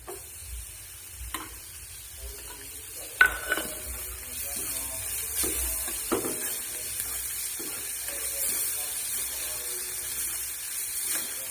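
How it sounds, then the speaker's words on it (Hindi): Tomato stirred into fried onion, garlic and ginger sizzling in a pan, a soft continuous sizzle with scattered spoon scrapes and clinks against the pot, including one sharper knock. "चलो अपना भुज गया प्याज लसन ते अदरक टमाटर मिला लेंगे"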